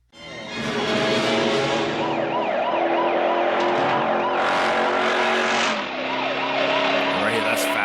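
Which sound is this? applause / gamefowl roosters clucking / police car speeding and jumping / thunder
police car speeding and jumping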